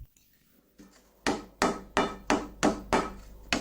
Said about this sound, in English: There, Mr. Servant, with wooden mallet blows, rounds off the piece and pounds the solder until achieving uniformity throughout the body.